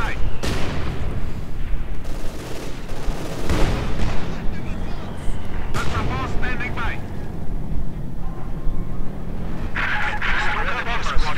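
Artillery barrages and gunfire in the World War II strategy game Company of Heroes 2, with field guns and T-34 tanks advancing, dense continuous booms and rattling shots layered under a commentator's voice.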